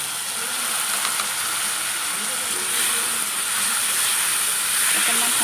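Chopped taro stolons dropped into a hot pan for an Assamese fish curry with kawoi fish, giving a loud, continuous hissing sizzle that stays steady throughout, with some talk over it.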